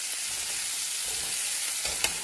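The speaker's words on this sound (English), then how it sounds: "I'm going to fry that up until my sausage is done and my onions are translucent." Sausage, red pepper and onions fry in a pan with a steady, soft sizzle throughout, plus a brief clink near the end.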